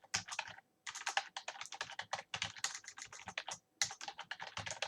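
Fast, steady typing on a computer keyboard while Python code is being written, with crisp close key clicks in rapid runs broken by two brief pauses and no talking.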